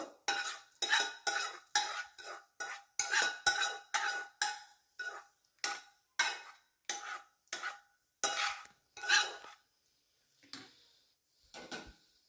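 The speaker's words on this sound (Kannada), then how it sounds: "ಈ ರುಬ್ಬಿದಂಥ ಈ ಮಿಶ್ರಣವನ್ನು ಹಾಕ್ಕೊಳ್ಳೋದು ಹಾಕ್ಕೊಂಡು ಅದಕ್ಕೆ ಈ ಒಗ್ಗರಣೆ ಮಾಡಿಟ್ಕೊಂಡಿದ್ದಲ್ಲ ಕ್ಯಾಪ್ಸಿಕಮ್ಮು ಅದರದ್ದು ಹಾಕ್ಕೋಬೇಕು" A spoon stirs a ground masala mixture and a capsicum tempering in a pan: about a dozen close, rhythmic scraping strokes with clinks against the metal, then a pause and a few softer scrapes. No one speaks.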